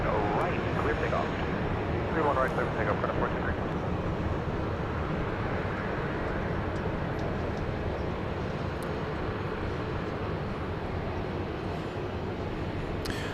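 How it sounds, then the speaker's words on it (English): A Southwest Airlines Boeing 737-800 in the special Illinois One livery, its jet engines giving a broad, steady roar at an airfield, constant and fairly loud throughout with faint voices in the background. "This is Illinois 1, the special run, the special Southwest Airlines livery."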